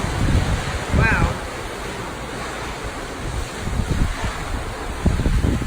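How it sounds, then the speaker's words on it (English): Strong gusting wind during street flooding in downtown Charleston, South Carolina, roaring loudly into the microphone with rushing, surf-like noise throughout and louder bursts near the start and end. A brief voice exclamation is heard early on. "Wind has definitely picked up a lot."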